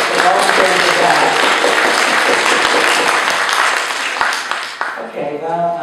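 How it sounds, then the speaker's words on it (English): An audience gives warm, sustained applause for a volunteer at a community event, many hands clapping loudly and close, tapering near the end as voices begin to speak over it. "I would like to ask everyone to join me for a really warm round of applause."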